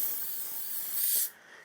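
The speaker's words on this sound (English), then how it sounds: "I'm just going to spray this down" Cleaning spray hisses onto a gun magazine in one steady, loud burst lasting just over a second before cutting off abruptly to faint room noise.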